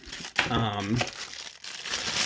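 Wax paper wrapping inside a Marvel Legends Captain America action figure box crinkles and rustles close up throughout, with someone talking over it.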